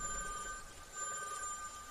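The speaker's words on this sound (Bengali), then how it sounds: "টেলিফোন 2 করে বাজছে দেখে বুঝলাম" An old-style telephone bell rings in a double-ring pattern, a steady high electronic trill held for the whole moment, fairly faint with a low hum beneath.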